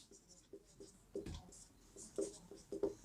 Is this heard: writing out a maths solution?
yes